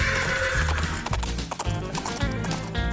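An equitation horse at a show clip-clops with quick rhythmic hoof strikes while neighing and whinnying over them, loud and close, with faint voices in the background.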